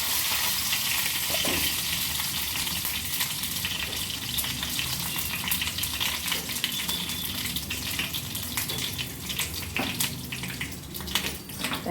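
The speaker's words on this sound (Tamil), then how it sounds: "தாளிப்பு போட்டுக்கலாம்" Tempering spices with curry leaves sizzle in hot oil for an eggplant chutney, a close, steady crackling hiss with scattered pops throughout.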